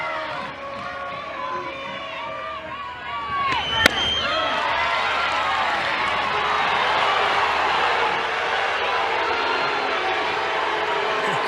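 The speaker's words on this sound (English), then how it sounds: "Crowd not liking that call." Large crowd at a women's college softball game between Oklahoma and Oklahoma State roars steadily in a dense, sustained wash of voices reacting to an umpire's call, with one sharp bang partway through.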